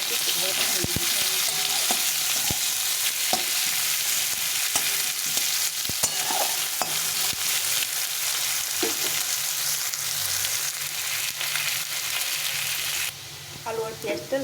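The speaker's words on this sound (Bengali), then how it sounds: "পেঁয়াজটা আলুটাকে একটু ভালো করে ভেজে দিতে হবে।" Potatoes and onion fry in a pan, sizzling loudly and continuously with scattered clicks and scrapes from stirring. The sizzle drops off abruptly just before the end.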